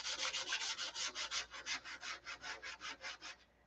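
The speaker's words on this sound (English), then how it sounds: "So dangerous sanding this stuff with no dope on it." Sandpaper is rubbed by hand over a tissue-covered model airplane with no dope on it, giving a close, rhythmic series of about twenty quick back-and-forth scratchy strokes, steady and fairly quiet.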